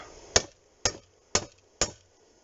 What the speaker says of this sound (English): it's as easy as hitting it with your favourite hammer